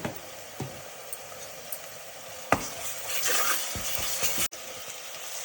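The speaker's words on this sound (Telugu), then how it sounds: "బాగా ఫ్రై చేసుకోవాలి" Goat tripe (boti) curry frying with ginger-garlic paste and turmeric in a pan. A loud, close sizzle swells in the second half, punctuated by a few sharp knocks and clinks from a spoon against the vessel.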